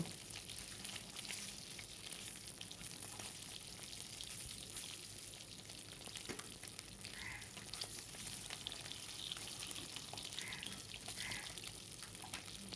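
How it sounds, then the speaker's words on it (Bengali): Eggs rubbed with salt and turmeric fry in oil, making a faint, continuous soft sizzle and crackle that stays even throughout, with no voices. "ডিম ভাজা প্রায় হয়েই গেছে এবার ডিম আস্তে আস্তে তুলে নেবো"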